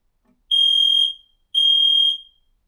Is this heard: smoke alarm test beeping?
yes